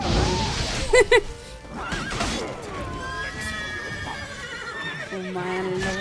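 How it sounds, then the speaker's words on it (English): Horses whinny and neigh loudly in The Witcher 3: Blood and Wine, with sharp high calls near the start, rising and falling tonal cries over game noise, and a voice speaking alongside. "Calm down, horses."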